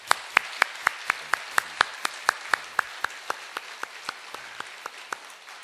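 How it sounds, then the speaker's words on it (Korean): A church congregation claps in encouragement, a slow, rhythmic series of about twenty distinct, evenly spaced claps that fade slightly toward the end, with faint murmuring underneath. "격려의 박수 보내주세요"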